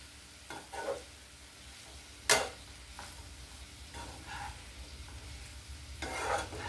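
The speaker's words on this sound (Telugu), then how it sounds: "Deep fry చేసేస్తానండి." Ivy gourd (dondakaya) deep frying in hot oil gives a quiet steady bubbling hiss, with a few sharper scrapes and stirs of a ladle, one louder clatter near the middle.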